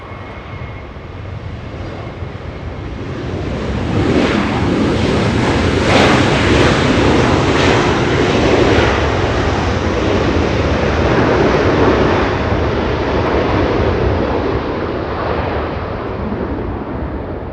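A passenger airliner taking off at Los Angeles International Airport, a broad engine roar that swells from a distant rumble to a loud sustained blast and slowly eases, with no voices.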